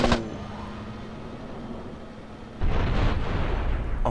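A sudden muffled blast in the game GTA San Andreas during a car chase, a single explosion bursting in after a low steady engine drone and lingering as a rumbling tail.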